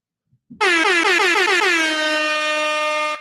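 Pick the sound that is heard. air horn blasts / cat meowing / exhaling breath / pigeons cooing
air horn blasts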